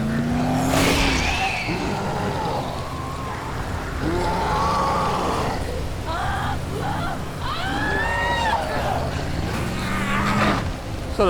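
Car driving in the zombie game Dead Island, with engine tones rising and falling and rain-like road noise throughout, steady and fairly loud, ending in a short burst at the close.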